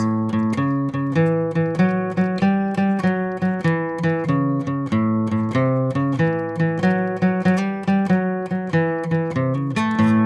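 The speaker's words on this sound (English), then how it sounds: "Boogie woogie patterns kind of sound like this." A guitar plays a repeating boogie woogie bass pattern with a bouncy shuffle rhythm, clear and close, with no talking.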